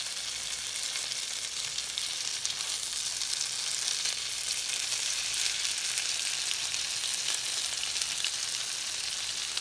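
A grits cake fries in a pan for shrimp and grits, giving a steady, even sizzle that holds quietly at close range for the whole stretch with no talking.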